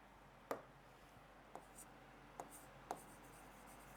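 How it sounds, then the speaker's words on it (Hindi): A marker or chalk taps and strokes faintly on a classroom board during a lesson, with a few short, sparse marks over a quiet background. "मैं यहाँ पे थोड़ा इरेज करके यहाँ पे और अच्छे से लिख रहा हूँ"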